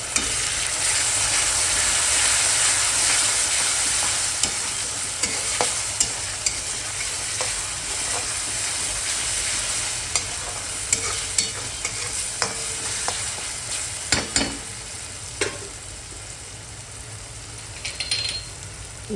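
Ginger-garlic paste stirred into browned onions frying in a pan for whole masoor curry, a steady close sizzle with repeated scraping strokes of a spoon, no voices.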